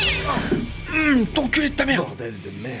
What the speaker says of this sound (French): C'était un chat. C'était une saleté de chat.